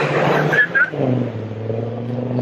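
A Land Rover engine revs loudly during Landy drag racing at a 2016 Land Rover festival in Namibia, with a strong, close drone that shifts pitch as it accelerates.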